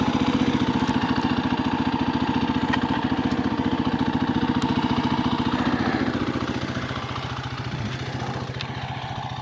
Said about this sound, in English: So that's the 2024 KTM 350 EXC-F fuel injected street legal dual sport.